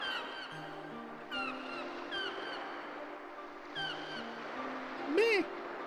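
Game birds in Legend of Legaia let out a few honking, goose-like calls, the loudest a rising-falling honk near the end, over looping background music with no talk.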